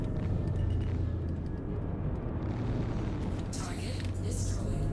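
An enemy stealth ship blows apart in a space combat game, a heavy rumbling boom and roar that fills the low end for several seconds, with a voice talking over it.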